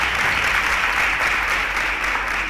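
A quiz-show studio audience gives a steady round of applause after a correct answer, even and sustained over a low background hum.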